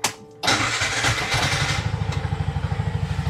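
A Bajaj RE 200 fuel-injected engine cranks and catches after a brief quiet moment, then settles into a loud, steady, rhythmic idle with regular pulsing beats close by.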